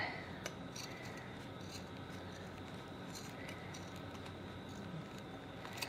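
Sewing scissors snip through fabric while trimming a seam allowance and piping, heard as sparse, faint, close clicks over a quiet room hiss.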